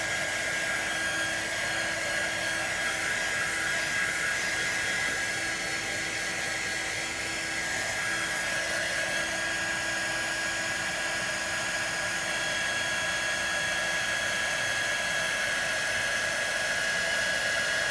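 A handheld heat or craft dryer blows continuously over a freshly stuck craft piece, a steady loud whooshing roar with a high whine that holds unchanged throughout, no voices.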